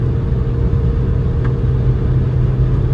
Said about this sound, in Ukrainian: Тільки що розігнався 150 км і автівка